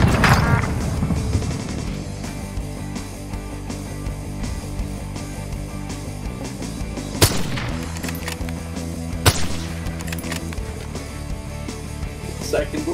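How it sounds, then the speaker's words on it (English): A rocket launch in the battle royale shooter COD: Warzone: sharp cracking blasts stand out against constant gunfire and rumbling action, with voices talking over the din. "Rocket away!"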